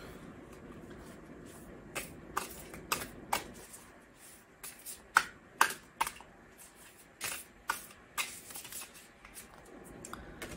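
Beyond Lemuria oracle cards are shuffled and tapped close by, giving a scattered run of sharp crisp clicks and flicks against a quiet background.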